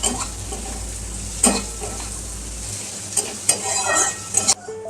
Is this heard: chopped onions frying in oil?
yes